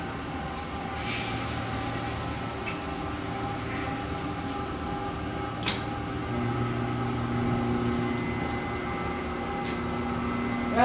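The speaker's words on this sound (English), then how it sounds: "I'm going to turn the machine on." A web converting machine fitted with a WrinkleSTOP anti-wrinkle roller runs with a steady mechanical hum and drone, constant throughout with a single faint click midway.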